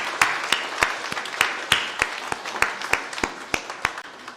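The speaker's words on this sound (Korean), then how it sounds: "축하의 박수 대신 받으세요" Steady, evenly paced clapping rings out during a church worship service, the sharp claps close and distinct with a faint murmur of the congregation beneath, and no one speaking over it.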